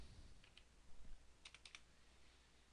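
A few faint, quick keypresses on a computer keyboard, small clicks in two short clusters over a soft background hiss.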